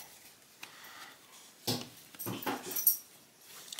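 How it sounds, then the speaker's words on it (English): A dog whimpers and yips faintly in the background of a quiet room during gun-oil work, in a few soft bursts rising near the middle and end. "Sorry, it's my dog in the background."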